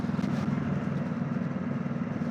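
Honda NX500 motorcycle engine while riding in second gear, a steady low drone running continuously and fairly loud, with wind noise over it and no talk.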